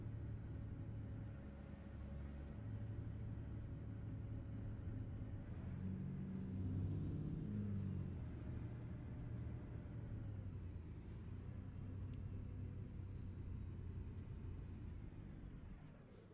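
A truck engine in a trucking video game pulls an empty trailer with a continuous low rumbling drone, swelling slightly in the middle as the pitch shifts, steady throughout with no talking.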